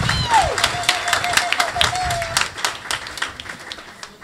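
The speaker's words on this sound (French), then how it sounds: "Applaudis pour toi-même." A church congregation applauds during a back-to-school worship service, a dense run of clapping that holds fairly steady for a few seconds, with a faint high tone and a few background voices beneath it.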